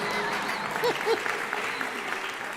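An audience at a Hindi poetry gathering (kavi sammelan) breaks into a steady wash of clapping, with a voice briefly audible over it.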